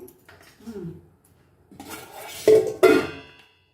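Hot oil is swirled in a metal kadai heated for frying katla fish: soft scraping and handling noises, then two sharp, loud metallic knocks close together near the end.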